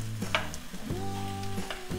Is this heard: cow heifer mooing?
no